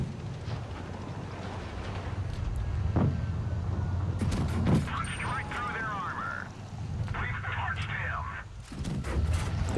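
Tank cannon shots from the Sherman Easy 8 in WoT Blitz, a few heavy booms spaced several seconds apart over a constant engine rumble and game noise, with a voice talking throughout.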